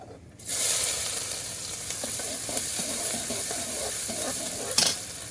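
Onion hits hot oil in a pan for malai kofta, bursting into a loud steady sizzle after a brief quiet start, with light stirring scrapes and a utensil knock near the end, no talk.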